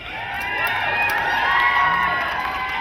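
A rally crowd at the Capitol in Sacramento applauds and cheers for an arriving speaker, a dense wash of clapping and whooping voices that swells and holds steady over a few seconds, moderately distant.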